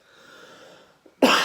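A single harsh cough bursts out after a moment of quiet breathing, close and loud at the very end.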